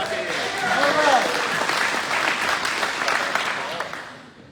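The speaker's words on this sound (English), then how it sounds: "I wanted to get more applause." Applause from an audience at a community meeting about the Lookout Fire in Willamette National Forest, Oregon, a steady clatter of many hands that holds for several seconds and fades at the end, with voices mixed in.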